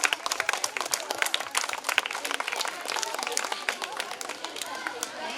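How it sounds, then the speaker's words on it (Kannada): Dense, lively clapping from a group of primary school children, continuous and close, with some chatter mixed in. "ಚಪ್ಪಾಳೆ ಬರಲಿ ಮಕ್ಕಳ"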